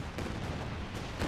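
Artillery barrage in the real-time strategy game Company of Heroes 2, a dense, muffled rumble of overlapping distant blasts and crackling impacts, steady and moderately loud throughout.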